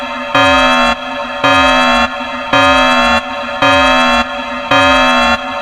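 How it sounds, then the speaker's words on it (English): A fire alarm sounds in repeated loud electronic honking blasts, five evenly spaced tones each lasting about a second with short gaps, heard alone without voices. "That's the sound of the fire alarm."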